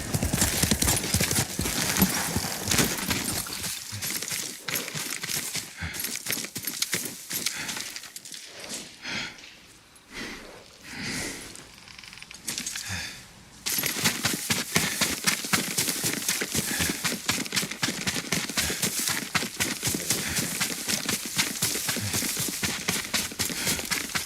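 Horse hooves in the video game Ghost of Tsushima clip-clop in a fast, steady rhythm, slow and thin out midway, then pick back up in a sharp, continuous gallop.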